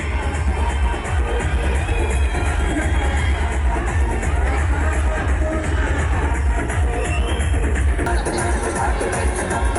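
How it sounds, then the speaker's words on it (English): An audience at a stage event applauds and cheers for a performer named Toby, a continuous roar of crowd noise with claps and shouts blended into a thick, loud wash. "A round of applause once again for Toby"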